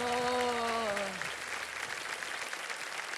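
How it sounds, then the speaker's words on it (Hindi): Studio audience applause on a televised quiz show, loud sustained clapping that starts as a host's voice fades out and continues steadily to the end. "तालियां बज जाए इनके लिए।"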